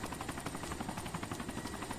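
A helicopter in a video game, its rotor chopping in a fast, even pulse that holds steady and fairly loud for the whole two seconds, with no voices.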